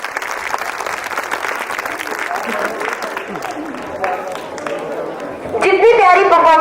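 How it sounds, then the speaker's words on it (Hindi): An audience applauds loudly and without a break after a patriotic performance at a school annual day. Near the end, amplified voices cut in over the clapping. "जितनी प्यारी परफॉर्मेंस थी उसके हिसाब से तालियां बंद होनी नहीं चाहिए।"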